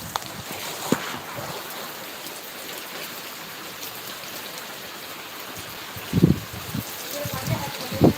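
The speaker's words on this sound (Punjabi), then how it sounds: "ਪੂਰਾ ਮੀਂਹ ਹੈ ਜਿਹੜਾ ਜੋਰਾਂ ਸ਼ੋਰਾਂ ਤੇ ਪੈ ਰਿਹਾ" Heavy rain pours down outdoors as a steady broadband hiss of falling water, with occasional nearby splashes and bumps, and people talk over it toward the end.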